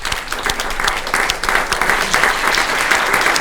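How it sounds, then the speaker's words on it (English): A conference audience applauds a panel steadily, a dense patter of clapping hands that holds at an even level throughout. "Please give a round of applause to our panelists."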